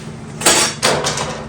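A hammer strikes a copper sheet being shaped into a chimney pot: two sharp, ringing metallic blows close by, followed by a few lighter taps, with no talking.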